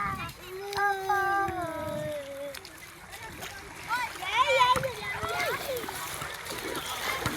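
Splashing and rushing of a strong river current close by, with children and adults talking and calling over the water throughout.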